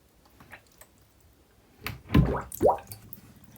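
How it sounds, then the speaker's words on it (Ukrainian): Water drains and drips from hand-washed delicate knitwear of cashmere, merino and mohair, a few soft scattered drips early, then two louder wet splashing trickles, with quiet between. "Поки стікає водичка, я приготувала два рушнички."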